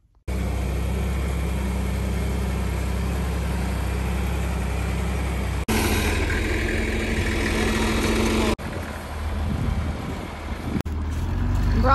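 A tractor engine idles near a baler with a steady low rumble, holding constant throughout with slight shifts in tone.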